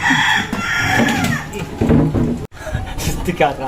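A native rooster crows loudly and close by, its call mixed with clucking fowl and chatter from children nearby.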